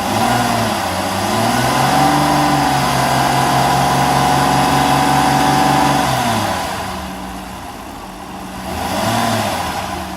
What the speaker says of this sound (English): So let's accelerate.